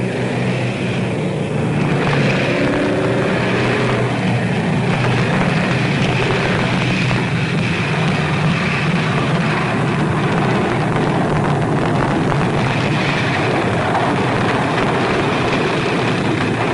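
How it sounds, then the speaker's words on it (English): Formations of Dakota aircraft pass over the town of Geel in northern Belgium during the Allied airborne invasion, a continuous loud piston-engine drone with a rough, noisy texture lasting throughout. "Formations of Dakota aircraft fly over the town of Geel in northern Belgium after completing missions near the Dutch frontier."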